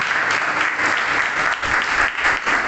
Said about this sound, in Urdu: تو تالیاں بجاتے ہولی اسپرٹ کے لیے.